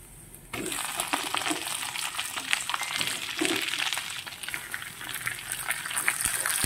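Catfish dropped into a pan of sautéed ginger, starting as a sudden onset of bright, crackling sizzle that holds steady and close. Scattered pops and scraping clicks sound over it.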